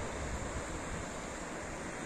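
Gentle sea waves at Kỳ Xuân beach in Hà Tĩnh, a soft steady wash of small surf with light wind rumble, continuous and fairly close, no voices.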